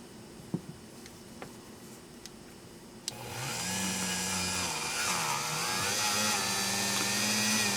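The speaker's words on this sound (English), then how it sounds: "so I'm ready to go with the Dremel now." Dremel rotary tool with a felt wheel polishing a Smith & Wesson third-generation pistol: after a few faint clicks, a high whirring spin starts abruptly and holds steady, its pitch wavering slightly under load, up close.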